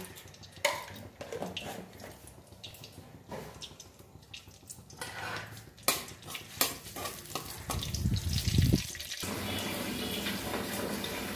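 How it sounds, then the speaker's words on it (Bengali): Hot mustard oil with whole cumin seeds poured over boiled mixed lentils, beginning with scattered clatters and knocks. A burst of crackling sizzle follows, then a steady softer hiss. "এটার মধ্যে ছুঁকে দেবো। ডাল ছুঁকে দিয়েছি বন্ধুরা।"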